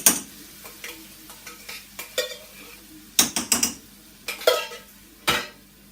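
A spoon stirs chicken curry in a metal pot, giving a series of irregular scraping clinks and knocks against the pot with a faint sizzle beneath, close by and with no voices.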